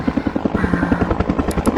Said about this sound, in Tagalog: yung helicopter ang nagbubuhos ng tubig doon sa gubat para matigil yung apoy